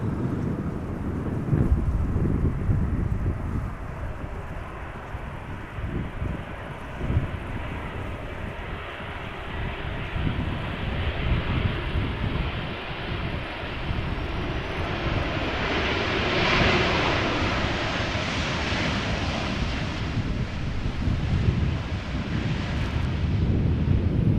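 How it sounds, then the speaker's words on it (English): A Boeing 737-800, 23 years old, arriving at Amsterdam Schiphol from Nice, with a broad, rumbling engine roar that swells gradually and rises in pitch as it nears, mixed with wind buffeting. "Boeing 737-800 flight 1254 arriving from Nice"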